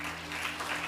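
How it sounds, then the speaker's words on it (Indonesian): A short burst of clapping from a church congregation during a sermon, fairly steady and moderately loud. "Tepuk tangan bagi Yesus."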